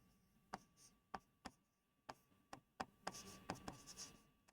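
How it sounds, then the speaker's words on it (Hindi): Chalk or marker tapping and scratching on a classroom board, a string of sharp, faint, close strokes spaced irregularly about half a second apart, growing busier toward the end. "अंत्यस्थ को एक बार साफ करके लिखेंगे"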